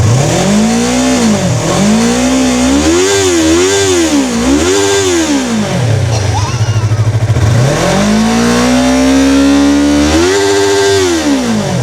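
A motorcycle engine revs hard during a ride, loud and close, its pitch repeatedly climbing and dropping through quick throttle blips, dipping briefly to a rough low idle before surging again.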